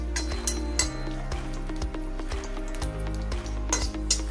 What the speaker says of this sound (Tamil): நல்லா ரோஸ்ட் ஆற மாதிரி வறுத்துக்கணும் இப்போதான் அது ரோஸ்ட் ஆகுது